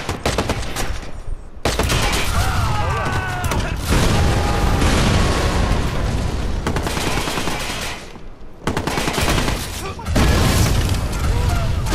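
Grenade launcher blasts in Watch Dogs, heavy booming explosions and gunfire filling the mix, loud and dense with a couple of abrupt cuts to silence between bursts.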